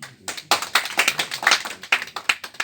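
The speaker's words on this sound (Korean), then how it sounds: "뜨거운 박수 부탁드립니다" An audience at a Korean union campaign rally at the Seoul waterworks headquarters claps for the candidates, a loud, close run of distinct hand claps in an uneven rhythm, at times nearly in unison, with no voices over it.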